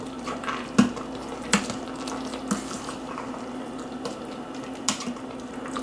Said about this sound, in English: You can actually hear it start boiling as soon as you quick release